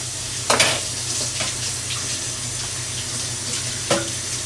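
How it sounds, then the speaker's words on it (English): Running tap water splashes steadily over a juice strainer being rinsed in a kitchen sink, a continuous close hiss with a couple of brief louder clatters, no voices. "I'm gonna rinse my strainer real quick"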